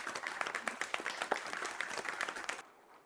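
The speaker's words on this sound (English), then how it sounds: "Let's get this started with a good round of applause" Round of applause from the audience at the opening session of the 34th Annual Directors Conclave conference, dense steady clapping for about two and a half seconds before stopping abruptly.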